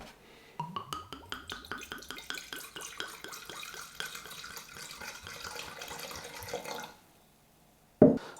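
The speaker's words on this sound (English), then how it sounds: "adding some brandy. 100 mils I need to measure out and get in here" Brandy glugs rhythmically from a bottle into a measuring jug for mince pie filling, a close series of gurgling pulses for several seconds before stopping, followed by a brief clatter.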